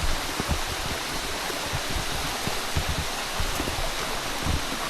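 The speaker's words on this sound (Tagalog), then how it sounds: "Maganda ito mga falls" A waterfall roars steadily as a broad, even wash of rushing water, constant and fairly close, with no voices heard.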